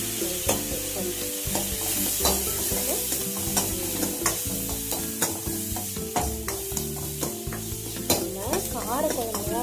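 Vegetables for a wedding-style drumstick, brinjal and raw mango sambar sauté in a pan, frying hiss under frequent rhythmic scrapes and clanks of a spoon stirring against the metal, close and loud.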